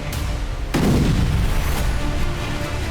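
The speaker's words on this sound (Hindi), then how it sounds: "तभी एक जोरदार धमाका हुआ और आग का गुबार नजर आया।" A sudden deep boom of a Russian missile explosion cuts in, rolling and rumbling afterward under steady background noise, with no speech.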